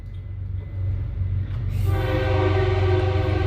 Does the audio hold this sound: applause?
no